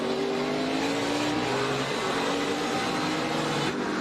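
Engine of a NASCAR Xfinity race car held at high revs through a road-course turn, a steady loud roar with drifting engine tones and light tire noise throughout.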